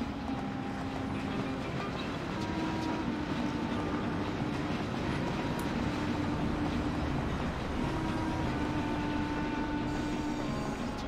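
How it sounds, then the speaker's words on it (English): A train in the Mafia video game rolls along its tracks with a continuous heavy rumble, faint rhythmic clatter and a low steady hum, with no voices. "So we can use the train in this game."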